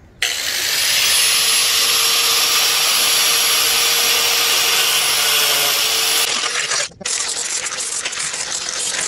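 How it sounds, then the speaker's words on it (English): A Dremel grinding wheel cuts the lip off a 1978 Ford Mustang II King Cobra hood, a loud, continuous high-pitched grinding whine that runs unbroken, briefly stops near the end, then resumes. "I'm cutting off this lip here. Grinding wheel, I do have a Dremel, a little bit more control with that."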